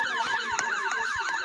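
A wailing police siren in the Roblox Brookhaven game, sweeping up and down steadily in a repeating loop with faint game thumps underneath.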